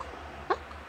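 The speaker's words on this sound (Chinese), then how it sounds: "宝贝打嗝吓到了。" A newborn baby gives a single brief, soft hiccup midway through, a faint, isolated sound against quiet room noise.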